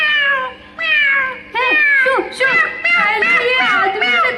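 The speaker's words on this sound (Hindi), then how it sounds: "अब ये बिल्ली भी आ गई है" A cat meows repeatedly in a rising and falling series, close and loud, at an outdoor campfire drama performance, with voices murmuring in the background.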